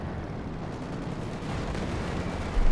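Dense battlefield gunfire and artillery from the Company of Heroes 2 war game, a continuous rumbling wash of shots and blasts with a heavier thump at the very end and no talk.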